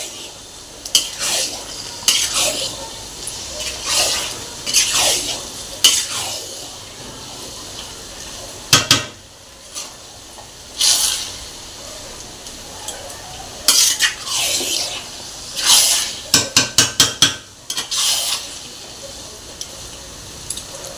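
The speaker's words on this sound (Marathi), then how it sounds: "असाच मसाला अर्धा पाऊण तास तरी एकसारखा भाजून घ्यायचा." A spoon scraping and stirring vada pav masala as it roasts in a pan, heard as repeated swishing scrapes and clinks of metal, close and steady, ending in a quick run of taps, with no talking.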